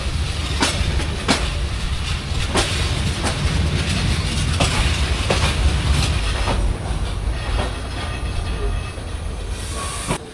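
Upaban Express passenger train rolling into Sylhet at dawn, a loud steady rumble with rhythmic clickety-clack of wheels over rail joints and a hissing wash of noise throughout.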